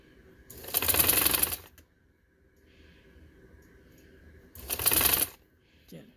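A sewing machine runs in two short bursts as it stitches a border strip onto a dress, with a quiet pause between the runs and a faint voice near the end.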